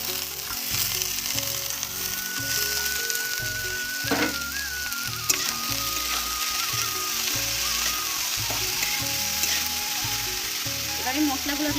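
Potato pieces dropped into a pan of onions and green chilli fried until reddish, setting off a steady, loud sizzle and crackle that runs throughout, with a few brief stirring scrapes.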